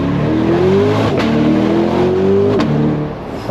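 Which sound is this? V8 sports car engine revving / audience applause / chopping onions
V8 sports car engine revving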